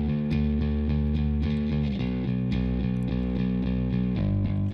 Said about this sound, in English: it's adding a bit of crunch to that bass guitar as well